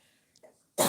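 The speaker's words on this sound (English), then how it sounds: "I have to cough for a second." A single short, loud cough bursts out at the very end, close to the mic, after a quiet stretch with faint rustling.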